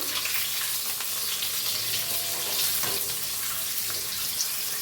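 Eggs frying in well-heated oil for an egg curry, a steady close sizzle and hiss running throughout with small crackles and no talking.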